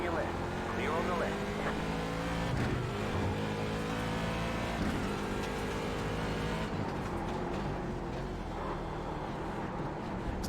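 Race car in the iRacing video game at Daytona drawing alongside, a steady engine drone with a passing whoosh, heard continuously under a person talking.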